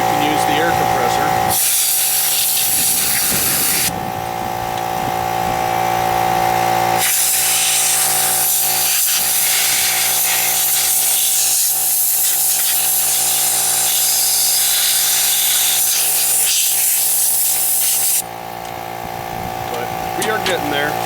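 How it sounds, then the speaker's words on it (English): Loud bursts of compressed air hiss from an air compressor nozzle blowing debris out of a deer skull for a European mount, with several long blasts separated by short pauses and a person talking in between. "or you can use the air compressor"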